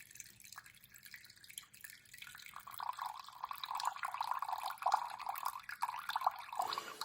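Water is poured into a container for a sourdough starter in a home kitchen, beginning as faint drips and then swelling into a steady, moderately loud trickling stream that carries on to the end, with nobody speaking.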